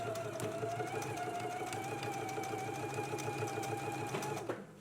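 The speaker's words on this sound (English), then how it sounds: "let's go ahead and stitch in a 5/8 of an inch seam allowance" A sewing machine runs continuously while stitching a 5/8 inch seam on jacket facings, giving a steady mechanical whir with a pitched motor hum that cuts off abruptly at the end.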